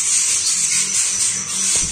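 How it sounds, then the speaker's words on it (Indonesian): A dense, continuous high-pitched buzzing trill of crickets fills the clip, loud and steady without pause. "Tapi nanti di sini juga ada suara jangkrik"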